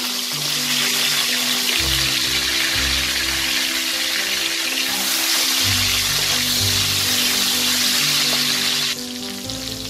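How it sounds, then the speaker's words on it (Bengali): Cauliflower florets rubbed with salt and turmeric frying in hot oil, a continuous loud sizzle with bubbling, low bursts of crackle and shifting hiss throughout. "ফুলকপিটা আমি লাল করে ভেজে নিয়েছি"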